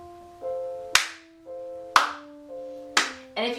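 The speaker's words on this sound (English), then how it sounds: "we're gonna clap for a couple of times" Sharp hand claps land on a steady beat about once a second, three crisp claps over a simple sustained musical backing, loud and close.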